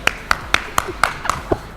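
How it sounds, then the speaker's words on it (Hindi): A few people clap in a short run of about seven sharp, evenly spaced claps, close and crisp, with no other sound between them. "अपने लिए तालियां।"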